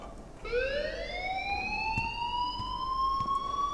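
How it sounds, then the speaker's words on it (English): A continuous rising electronic alarm tone with a steady, slowly climbing pitch sounds in the video game Life is Strange, fairly loud and alone over a constant background hum, with a few faint ticks. "please turn off that alarm since that's your job."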